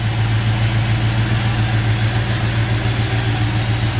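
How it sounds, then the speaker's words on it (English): A 1964 Chevelle Malibu with a 283 V8 and dual exhaust idles steadily, a loud, close, even low rumble with no change in pitch and no talk over it. "It's a fantastic running 283 engine."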